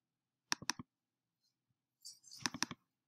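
A computer mouse double-clicks close by, a quick pair of sharp taps, then after a short pause another burst of rapid clicks with a faint rustle before it, no talking.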